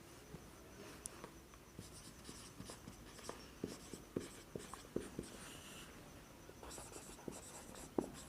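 Pen writing on notebook paper during a maths lesson: quiet, faint scratching strokes with irregular soft taps, steady and close, no talking.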